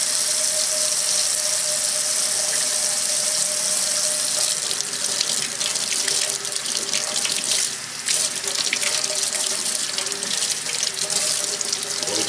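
Cold water runs steadily from a kitchen tap over a brined salmon being rinsed, a loud continuous hiss and splash that grows brighter and more spattery partway through, with no talk over it.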